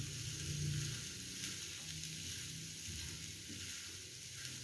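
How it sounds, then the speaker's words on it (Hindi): Potatoes are stirred into lightly cooked spices in a pan, giving a steady, soft hiss of sizzling oil with faint scraping, alone and without talk. "अब इसके अंदर आलू ऐड करेंगे और इनको मिक्स करेंगे अच्छी तरह मसालों के अंदर।"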